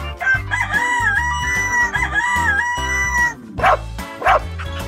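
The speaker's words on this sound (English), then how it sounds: "rooster" A rooster crows in a long drawn-out call over a music track, followed by a couple of short barks.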